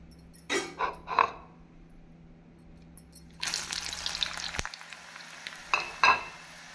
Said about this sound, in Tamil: நாம் திரும்பவும் இந்த உருளைக்கிழங்கை பொரித்து எடுத்து விடலாம்.